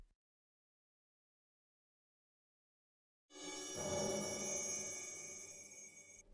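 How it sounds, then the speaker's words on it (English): After a few seconds of silence, a shimmering metallic chime swells in and rings with a bright, reverberant glow before slowly fading. "But to add the effect of glow, using impulse reverb I added chimes to the sound."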